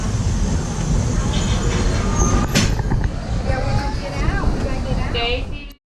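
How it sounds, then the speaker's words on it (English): The Walt Disney World Railroad train rumbles and clatters steadily with a loud, close rolling noise, carrying a brief squeal and mechanical clanks, while people talk over it before it cuts off. "Welcome aboard the Walt Disney World Railroad."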